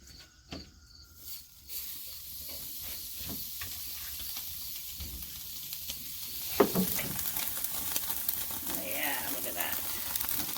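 Thin cuts of meat sizzling in a hot pan, a steady bright hiss that starts suddenly and stays loud and close, with scattered pops and crackles while a voice talks over it.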